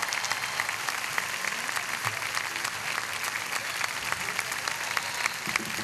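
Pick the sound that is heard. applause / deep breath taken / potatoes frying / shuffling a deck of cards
applause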